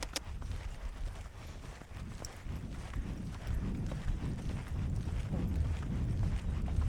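A young horse in early training lopes under saddle in an arena, hooves thudding in a steady rolling rhythm that grows slightly louder and nearer over several seconds, with faint background noise.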